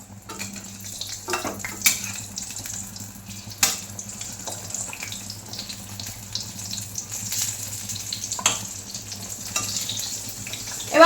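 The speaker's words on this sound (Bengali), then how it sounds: "এখানে আলু ভাজা, পটল ভাজা, আর এখানে বেগুন ভাজা হচ্ছে" Potatoes, pointed gourd and eggplant fry in pans in a home kitchen, giving a steady low sizzle with a constant hum beneath, plus occasional clinks and knocks of utensils and water-like splashes.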